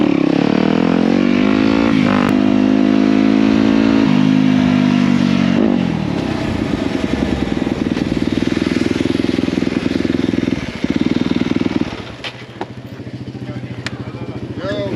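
Custom Yamaha Banshee 350 ATV engine while riding on street and trail, a loud, continuous engine drone that rises and falls with revving through changes, close by and dominating throughout.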